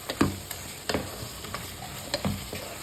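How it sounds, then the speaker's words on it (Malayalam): Mutton frying in oil is stirred with a spoon in a pan: a handful of separate scraping strokes at irregular intervals over a faint, soft sizzle, close by, with no voices. "നല്ലൊന്ന് ഇളക്കി കൊടുക്കുക. എണ്ണയിൽ കിടന്നിട്ടൊന്ന് നന്നായി ഒന്ന് വെന്തിട്ടുണ്ട് മട്ടൻ."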